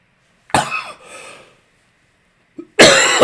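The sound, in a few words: cough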